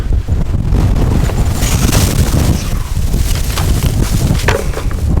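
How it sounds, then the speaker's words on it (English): Strong wind gusts roar continuously across the microphone on the Chimney Rock cliff trail summit, a loud, buffeting rumble with shifting bursts and no talking. "This wind is intense."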